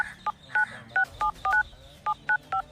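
Phone dialing tones: about ten short, evenly spaced dual-tone beeps from a keypad, clear and close, with faint background noise and no talk.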